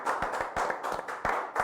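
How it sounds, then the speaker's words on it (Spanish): Audience applause at a business talk event, steady clapping from a crowd sustained through the short stretch, fairly close and even in loudness. "Un aplauso, por favor."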